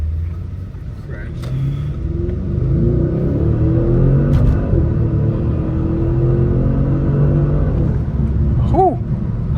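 A 555 hp Audi S6 accelerates with a loud, close, steady engine rumble heard from inside the car, with a brief pop near the end as the throttle lifts.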